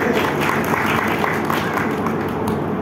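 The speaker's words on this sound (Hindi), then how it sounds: "भी ताली बजा लीजिए।" An audience at a Buddha Purnima celebration claps steadily throughout, a dense, continuous patter of many hands with some crowd noise underneath.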